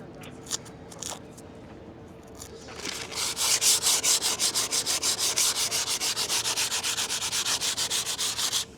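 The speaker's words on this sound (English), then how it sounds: "So let's get this varnish off and do some sanding" Rhythmic back-and-forth hand sanding of varnish off teak wood, a steady scratchy rasp repeating at an even pace after a few lighter strokes.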